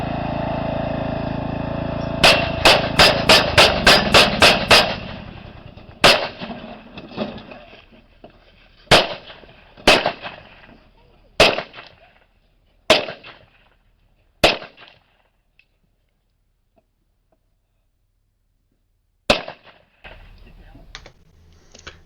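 Gunshots in a neighbor's fence dispute: a rapid barrage of about nine sharp shots, then single shots spaced a second or two apart, and a last isolated shot after a pause, loud and close, with no voices over them.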